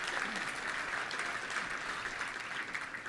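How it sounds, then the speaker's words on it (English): A room of luncheon guests at a touchdown club applauds for a guest: dense, continuous clapping at an even, moderate level throughout, with no talking over it. "Tim, let's give him a round of applause."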